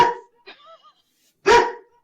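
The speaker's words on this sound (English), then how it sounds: "Sorry, that's my dog." Asa, a pet dog, lets out a sharp bark, a few softer yips, then another loud close bark indoors.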